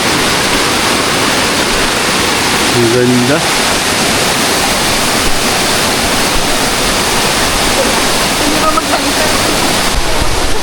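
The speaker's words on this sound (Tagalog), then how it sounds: "nung nakita ko itong falls na ito" A waterfall in a forest with rock formations and clear water roars as a loud, steady rush of water, with a few brief spoken words over it.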